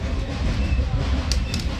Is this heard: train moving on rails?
yes